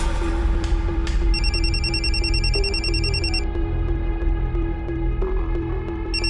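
A telephone ringtone trilling in rapid electronic pulses over a low steady hum, one long ring that stops, then starting again near the end.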